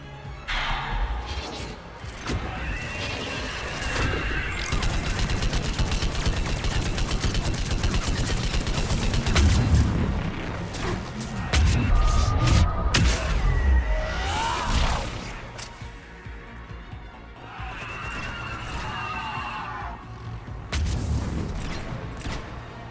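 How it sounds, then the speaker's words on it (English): Gunfire and explosive bursts from the video game Mass Effect 3 form a continuous, loud clatter of shots and impacts. Occasional voices come through over the fighting. "What are we shooting at?"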